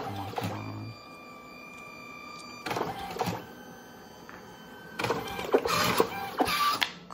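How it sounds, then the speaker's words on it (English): A photo booth printer runs through a print job, giving a steady mechanical whir with tonal motor whines. Louder feed and cutting bursts come near the start, around the middle and at the end, with no talk over it. "The server communicates with the printer. Started printing at 9 seconds."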